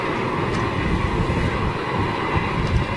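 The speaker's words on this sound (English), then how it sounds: "British Airways, Boeing 747. Dublin bound." British Airways Boeing 747 airliner heard as a steady, broad jet roar with wind buffeting the microphone, loud and continuous outdoors, no talk.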